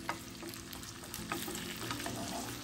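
Venison sausage and potato breakfast hash fries in a pan with a steady soft sizzle, broken by the faint scrape of occasional stirring, quiet and close.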